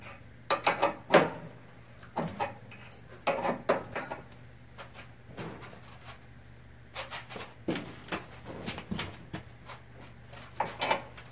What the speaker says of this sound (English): we're gonna go ahead and tighten up the main bolts on each side.